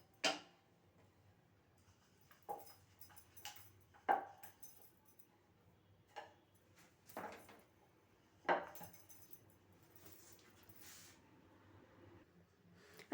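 Paratha dough balls rolled out with a rolling pin, sparse wooden knocks and taps at irregular intervals, close and faint, over a quiet background.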